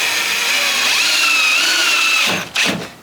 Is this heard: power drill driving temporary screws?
yes